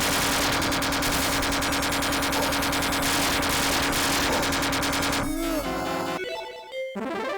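Rapid continuous gunfire from a Capcom Classics Collection arcade shooter on PS2, a loud chattering stream of shots over beeping game sounds that breaks off into short electronic tones near the end.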